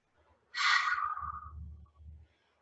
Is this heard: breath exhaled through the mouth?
yes